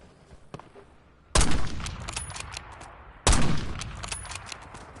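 Two loud, abrupt salvos of automatic gunfire in Call of Duty Warzone, each opening with a sharp blast and trailing into rattling shots and echoing reverb, with quieter scattered shots before them.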